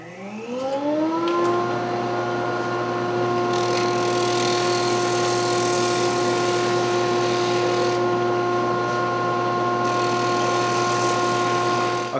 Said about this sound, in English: I'm going to do this on the drum sander over here at the drill press